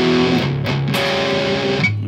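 Palm-muted distorted electric guitar plays a short riff: a few chugging notes and chord changes, close and alone.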